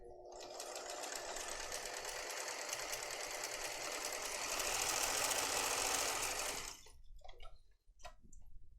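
A sewing machine stitches the sides of a tote bag in one long continuous run, its rapid needle chatter loud and close for about seven seconds before stopping, followed by brief handling clicks.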